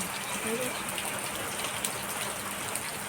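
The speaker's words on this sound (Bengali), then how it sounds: "দেখো তখনকার তুলনায় এখন বৃষ্টি আরও বেশি হচ্ছে" Heavy rain falling steadily, a constant wash of hiss with scattered drop patter, moderately quiet and unbroken throughout.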